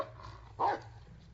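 A single short bark from the dog in the Blair Witch video game, one brief mid-loud yap standing out over a low ambient background.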